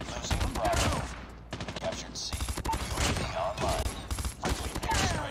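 An M16 fires in Call of Duty Mobile, sending repeated rapid bursts of loud, close gunshots separated by short pauses, with the firing dense and continuous across most of the clip.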